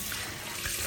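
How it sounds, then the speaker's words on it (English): Tap water runs steadily over chicken wings being rinsed in a kitchen sink, a faint, continuous hiss and trickle with no talking. "So I'm just gonna rinse this off"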